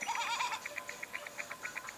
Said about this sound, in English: we've got 2 sheep on the go